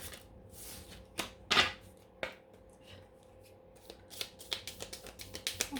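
A Petit Lenormand deck is shuffled for a card reading: close, quiet slaps and riffles, with a louder burst early on and a quickening series of crisp card snaps toward the end, with no talking.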